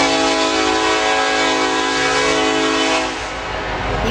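A stopped freight train on a rail track sounds a long, steady horn blast, loud and sustained with rich harmonic tones, easing slightly near the end over rumbling rail noise.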